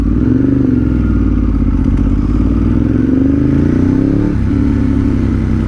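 A motorcycle engine idles loudly and steadily up close, its exhaust running at about 114 decibels, giving a deep, throbbing rumble with a slight rise in pitch partway through.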